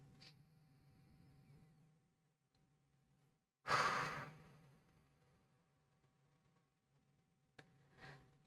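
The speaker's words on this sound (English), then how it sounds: "We're going to take a deep breath." One deep breath, a long rushing inhale or exhale near the microphone, framed by quieter breathy sounds before and after in an otherwise hushed, still room without speech.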